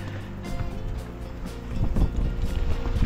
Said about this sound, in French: le blizzard souffle en rafale